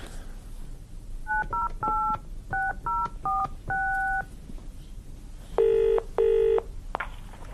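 A telephone number dialed on a keypad: a quick series of touch-tone beeps in uneven rhythm, then two longer, louder tones after a pause, close and clear over a quiet room.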